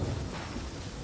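Heavy rain pours down with a deep rumble of thunder in Genshin Impact, a dense, loud wash of noise with no voices.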